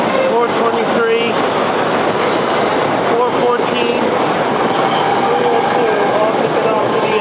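A SEPTA regional rail train rolls through Jenkintown station on a rainy day, its steady, loud rumble and rail noise filling the scene while someone speaks over it.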